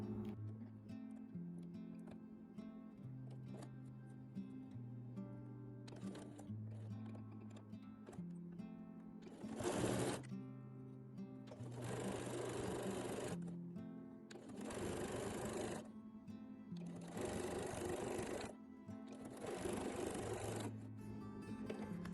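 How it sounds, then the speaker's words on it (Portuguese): Sewing machine stitching close to the plastic of a multi-use toiletry bag, running in several loud, steady bursts separated by short pauses, with a faint hum underneath between runs. "Aqui na minha máquina ela vai super bem, deu para costurar bem próximo ao plástico"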